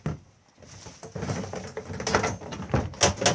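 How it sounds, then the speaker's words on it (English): A stiff chicken coop door scrapes and knocks as it is forced open and shut, giving uneven clattering bumps and scuffs that grow louder toward the end. "This door needs some help."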